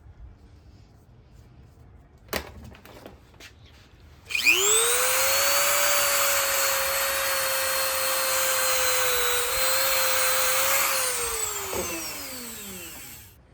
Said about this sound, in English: let's give it a quick buff and polish